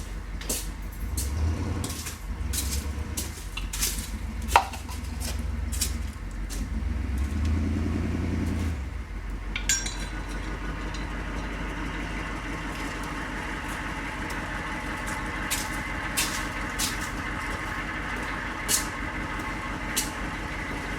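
A 6.2 diesel Suburban engine with a slight miss runs steadily up close, its low rumble continuous with a few sharp clanks and knocks over it.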